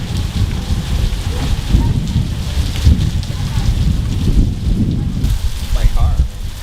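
Heavy rain pours down in a steady, dense roar with rushing water and gusty noise, close and loud throughout, with faint voices underneath.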